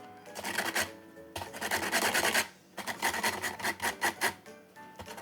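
Lemon being zested on a grater for lemon syrup, a close, rough rasping in repeated strokes, with brief pauses between bursts and no talking.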